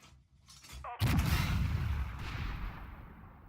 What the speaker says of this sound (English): Start banging away at that Sheridan.